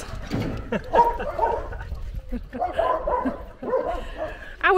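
Several dogs bark and yip near a motorhome stop in Romania, short irregular bursts that come and go over about five seconds, with voices faintly mixed in at times.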